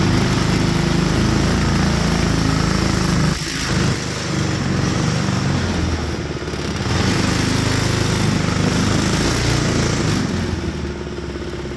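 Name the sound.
small engine vehicle running and driving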